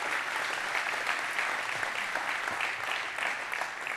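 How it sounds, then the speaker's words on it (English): An audience gives a steady, dense round of applause for trainer Gunnar Peterson at a presentation, the clapping even and sustained throughout without any voices. "let's give him a round of applause"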